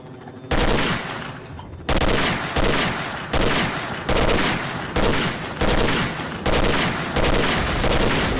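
Bursts of automatic weapon fire from the video game S.T.A.L.K.E.R., about seven loud, close volleys, each lasting under a second, separated by brief gaps and with no voices.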